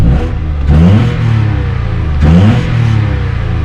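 A Peugeot 107 engine, freshly replaced, idles close by and revs up twice, the pitch rising and falling with each loud push of the throttle.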